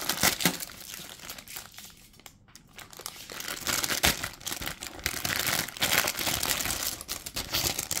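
Tape being peeled and torn off the packaging of a small figure keychain charm during an unboxing, with close crinkling and ripping noises of plastic and tape that rise and fall over several seconds.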